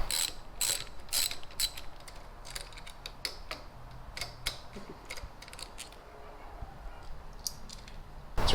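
Ratchet loosening two 10mm bolts on the tip sensor of a Honda Grom motorcycle, rapid close clicking bursts that start and stop repeatedly, with no talking.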